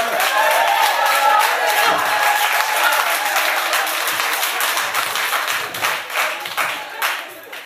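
A church congregation applauds during a sermon, loud sustained clapping with crowd noise and a few voices mixed in, the applause fading into scattered claps near the end.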